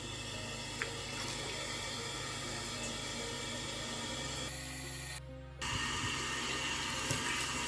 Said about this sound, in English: Now I'm just going to wet the hair, okay, with lukewarm water.